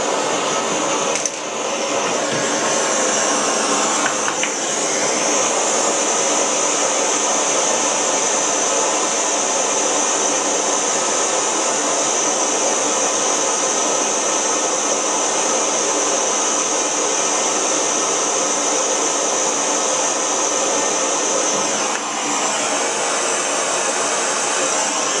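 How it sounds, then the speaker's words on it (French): A gas torch welds boiler tubes in place in a home workshop, giving a loud, steady, close hissing roar that holds for about twenty-five seconds, with brief dips near the start and toward the end, and no talking. "maintenant on va faire cette soudure sur place"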